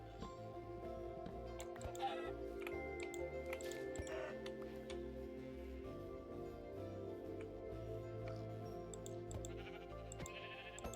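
Sheep bleat faintly in a modded Minecraft world, the calls sitting under a steady bed of game music and ambient sound with occasional dripping, no voices heard.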